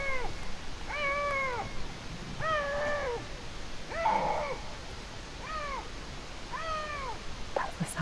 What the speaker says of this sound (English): You begin to hear the females calling the males.